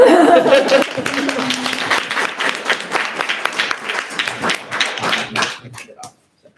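An audience claps for a group of presenters at a spring programs preview, a dense round of applause with a little laughter that thins into scattered claps and stops abruptly; a voice talks briefly at the start.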